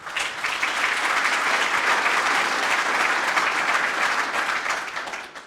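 A crowd at a Rangers football club EGM applauds an onstage speaker: loud, dense clapping rises fast, holds steady for several seconds, then tapers off at the end.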